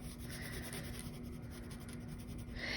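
Crayons, pencils or markers steadily rubbing and scratching across paper while a fishbowl drawing is coloured in, a close, continuous soft scrubbing with no talk over it.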